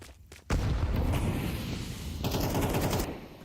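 Dense automatic gunfire from a Counter-Strike esports match, a wall-bang spray that starts abruptly after a brief quiet lead-in and then rattles on loud and continuous to the end of the clip, with no talk over it.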